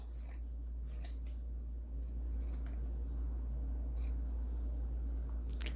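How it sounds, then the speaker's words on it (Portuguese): Scissors snip away excess fabric while a tote bag is sewn, giving a handful of crisp, close cuts spaced irregularly over a steady low background hum, with no talking. "Vou cortar o excesso."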